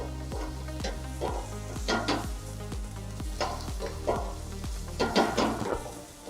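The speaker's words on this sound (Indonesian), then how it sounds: "Kita aduk dengan rata." A spoon stirs in a hot pan over moderate heat while making hollandaise sauce, with a steady rhythmic scraping every half second under a soft continuous sizzle. It is close, fairly quiet, and no one speaks.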